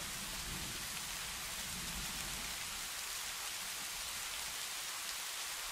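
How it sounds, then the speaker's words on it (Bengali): Steady rain falls in an animated cartoon, a constant soft hiss of drops with no pauses and no voices. "সেই যে সকাল থেকে বৃষ্টি শুরু হয়েছে, এখনো থামার কোনো নাম নেই।"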